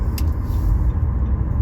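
Steady low rumble of highway traffic near Toronto on a dark, rainy day, with continuous road and engine noise from passing vehicles and trucks close by.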